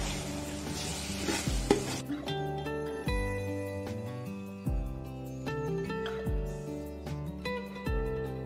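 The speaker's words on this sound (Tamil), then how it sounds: "இஞ்சி பூண்டு போட்டுட்டு ஒரு 5 நிமிஷம் வரட்டும் பச்சை வாசனை போற வரைக்கும்." Ginger and garlic fry in a pan for mutton biryani, a soft sizzle with scraping stirs and occasional utensil clinks, partly under background music.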